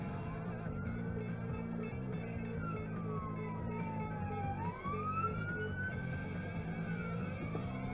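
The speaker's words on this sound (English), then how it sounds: "gave the ambulance options" An ambulance siren wails steadily, rising and falling in pitch over constant road and engine noise, fairly close as it passes.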